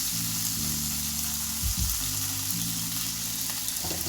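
Food browns in a hot frying pan during home cooking, giving a steady close sizzle with a soft low hum beneath and a brief stirring or shifting sound in the middle.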